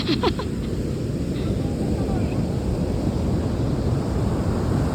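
Strong sea waves pound a beach in a steady, loud roar of surf mixed with wind rumble against the microphone.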